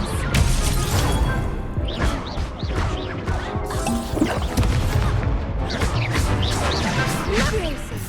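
Incendio fire spell cast amid a Hogwarts Legacy duel, a sustained roar of crashes, whooshes and smashing impacts layered with bright crackles, loud and busy throughout with voices mixed into the battle noise.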